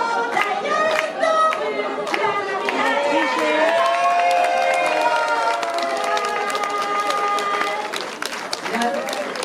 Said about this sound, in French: on les applaudit les mariés.